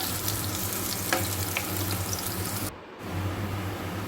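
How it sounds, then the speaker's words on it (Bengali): Peeled garlic cloves and black cumin seeds fry in hot oil, a loud, dense, continuous sizzle that briefly dips for a moment before crackling on again, with no voices. "দিয়ে ভালো করে রসুনগুলো ভাজা ভাজা করে নেব।"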